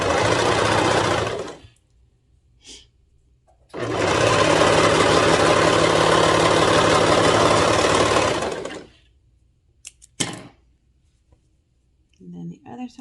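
A sewing machine runs fast down the side seams of skinny pants in two loud, continuous bursts, a short one and then a longer one of about five seconds, with faint clicks between.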